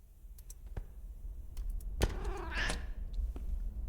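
A pet cat meows once, fairly close, in a quiet indoor room, preceded by soft scattered clicks and light handling noise, with no talking.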